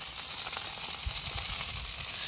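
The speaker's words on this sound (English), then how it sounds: "Good sizzle." A dry-brined whole young turkey sizzles steadily on a kettle grill set up as a smoker, a close, continuous crackling hiss with soft pops and no talking.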